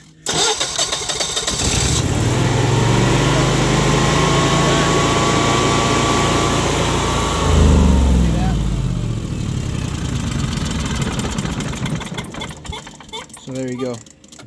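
A Generac Guardian standby generator engine runs loudly and steadily, surges briefly, then falters and stalls as fuel pressure drops, winding down to near silence with a few sputters at the end.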